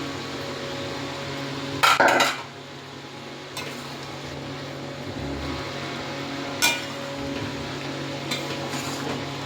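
Chicken is stirred in a pot, with a couple of loud metal scrapes and clanks from a spoon against the pot over a steady low background hiss, then quieter occasional taps.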